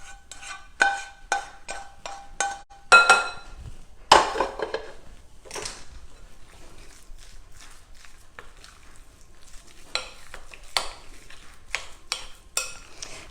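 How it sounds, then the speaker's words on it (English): Sauteed green onions mixed into a meatloaf mixture, producing sharp clicking taps of a utensil against a bowl at the start, then softer intermittent scrapes and clinks, close and moderately loud. "the next step is to add in those sauteed green onions. Just going to mix those in next."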